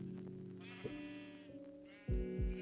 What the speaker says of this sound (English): we do have every color of sheep, actually